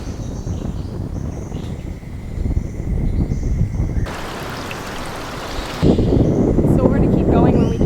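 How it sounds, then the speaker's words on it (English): Ocean waves along a coastal trail on Kauai make a steady, broad rushing wash throughout, mixed with gusty wind buffeting the microphone. The roar swells louder near the end. "you just hear the ocean the whole way through"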